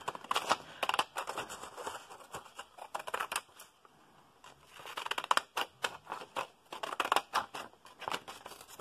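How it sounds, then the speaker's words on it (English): Paper being cut with pinking shears: close, crisp snipping in rapid bursts with short pauses between runs of cuts, no voices. "pinking shears are not the easiest things to use, let me tell you"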